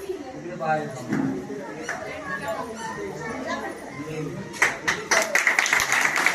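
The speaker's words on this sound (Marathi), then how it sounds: "त्यामुळे सगळ्यांनी त्यांचं टाळ्या वाजवून अभिनंदन करावं" Audience at a saint's death-anniversary ceremony in Nagpur breaking into applause near the end, a burst of clapping that follows a stretch of talk and murmuring crowd.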